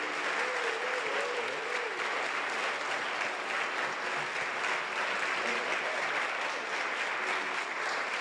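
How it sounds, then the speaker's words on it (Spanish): A large audience at a Cátedra del Futuro lecture in Mexico claps in sustained, dense applause that holds steady for over eight seconds, with a faint voice briefly audible early on. "Por favor, un aplauso, pero que se oiga bien, que se escuche bien."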